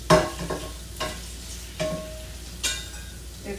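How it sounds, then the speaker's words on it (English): Shrimp pan-searing in a hot pan, a low steady sizzle broken by four sharp clanks of a utensil against the pan spaced about a second apart. "So I think I'm going to just fry the shrimp just a little bit."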